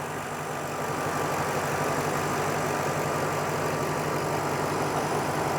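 The 4.6 liter V8 of a 2007 Ford Mustang GT idles smoothly and evenly, a steady close-up hum with no talk over it.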